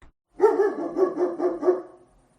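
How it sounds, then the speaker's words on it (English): A dog barks four or five times in a quick, evenly spaced burst, close and loud, with no other sound around it. "Dog."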